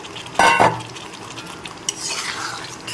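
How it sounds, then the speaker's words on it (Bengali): A spoon stirring eggs into a masala curry in a pan: close scraping swishes against the pan in a couple of short bursts, a soft clink, and a faint simmering hiss underneath, with no voices. "ভালো করে নেড়ে চেড়ে মিশিয়ে নিচ্ছি সাথে ডিমগুলোকে মিশিয়ে দিলাম"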